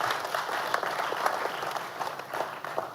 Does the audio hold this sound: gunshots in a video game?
no